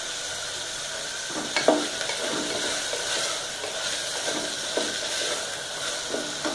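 Curry leaves and a bay leaf fry in hot tempering oil for vegetable pulao, giving a steady close sizzle with a few sharp pops and crackles scattered through it. Nobody speaks.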